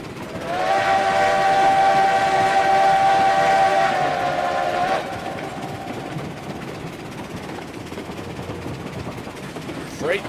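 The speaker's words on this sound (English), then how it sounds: "Freight train on the move." A freight train locomotive in the RailRoads Online video game runs with a loud steady whistle for several seconds, then a continuous rumbling rail roar as the train keeps moving.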